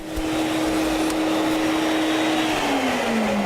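A Sirena Hydro vacuum cleaner runs steadily and loudly nearby, a constant roaring whine whose pitch drops slightly near the end, with no speech.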